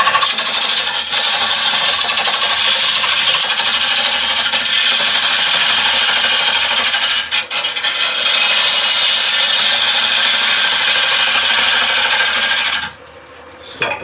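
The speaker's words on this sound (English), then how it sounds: "a pull cut is a great waste remover for us" A lathe tool dragging through spinning wood in a pull cut, stripping waste from an uneven turned surface: a steady loud scraping, rasping hiss that runs continuously, dips briefly once, then stops abruptly near the end.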